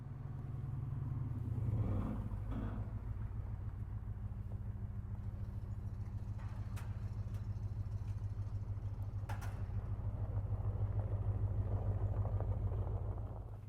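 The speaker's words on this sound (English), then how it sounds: "Let's see what the MBRP 4-inch exhaust system sounds like." A 2020 Ford Super Duty Tremor with the 7.3-litre gas V8 and an MBRP 4-inch exhaust rumbles with a deep, steady low exhaust note, swelling briefly near the start and again toward the end, with no talk.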